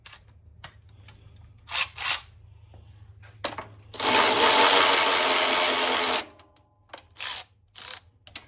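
A ratchet wrench with a 12mm socket works on the carburetor of a 1973 Honda CB350, giving short clicking bursts and a long sustained ratcheting rasp of about two seconds, then more brief clicks, close and fairly loud.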